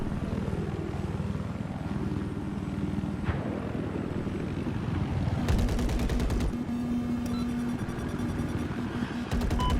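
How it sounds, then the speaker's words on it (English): Helicopter in a military shooter video game, a steady loud rotor drone sustained throughout, with bursts of gunfire and explosion-like crackle layered on top in the second half. "Chopper."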